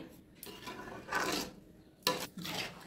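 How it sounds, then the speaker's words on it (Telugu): A spoon scraping and stirring carrot halwa with sugar syrup in a metal pan, giving soft rasping strokes in an uneven rhythm, close by and fairly quiet. "ఇక మనము బాగా కలుపుకుందామండి"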